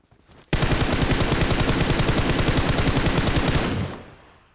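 Rapid automatic gunfire from PUBG Mobile, in a solo-versus-squad match, starts abruptly and runs as a dense, steady burst of close, loud shots for about three seconds before cutting off. The speaker's remark points to a pump shotgun, but the rapid burst reads as sustained automatic fire.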